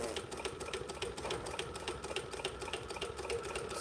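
A sewing machine stitching slowly, a quiet, rapid mechanical ticking in a steady rhythm, faint and close, and no talk.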